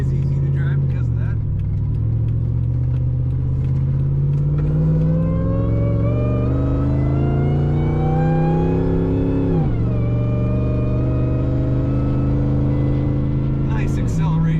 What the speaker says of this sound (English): Nice acceleration in this Jeep.